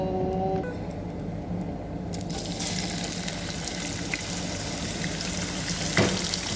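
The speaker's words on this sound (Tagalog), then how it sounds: "Ayan po, maggisa-gisa-gisa tayo ng pinaghalo na yan" A mixture for pastil is sautéed in plenty of cooking oil. A soft, quiet opening gives way to a steady, close, crackling sizzle that runs without talk.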